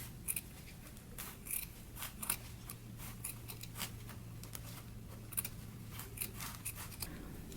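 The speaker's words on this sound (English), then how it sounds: "we can go ahead and trim close to the stitching" Scissors snip through fabric close to the stitching on a sewn jacket flap, a quick irregular series of crisp close cuts with a faint low hum underneath and no talking.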